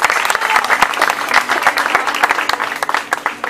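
An audience claps loudly for a pop singer at a live show, with crisp individual claps close by over a dense crowd wash and a few cheers, holding steady throughout.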